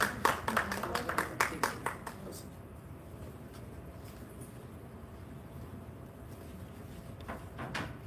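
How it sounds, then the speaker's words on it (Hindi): Audience applause at a Hindi poetry gathering honouring a guest, a burst of claps in the first two seconds that fades into room murmur, with a few scattered claps returning near the end. "आप सभी भी तालियों के साथ उनका अभिनंदन करें।"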